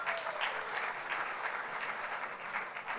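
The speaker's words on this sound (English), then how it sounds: "Round of applause." An audience at an education awards ceremony in San Diego applauds an award recipient, a steady, moderately loud spread of clapping hands lasting a few seconds with no talking.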